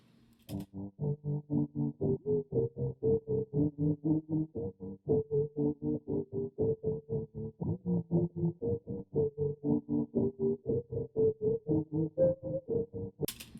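A moody, low synth loop for dark R&B, pulsing in a fast, even tremolo effect throughout, with a dark, muffled tone and no voices.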